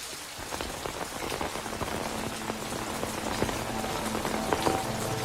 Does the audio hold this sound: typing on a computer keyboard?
no